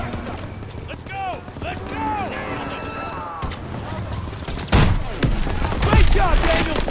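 Call of Duty WWII battle: rifle and machine-gun fire crackles in bursts alongside whistling projectiles and heavy impacts, with soldiers shouting over the combat.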